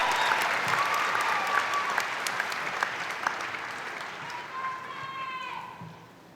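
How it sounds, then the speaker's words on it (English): A large audience at a university fall commencement applauds the bachelor's graduates, full clapping that gradually thins and fades toward the end, with scattered voices and a few cheers mixed in. "One last big round of applause for our bachelor's graduates from the Heller College of Business."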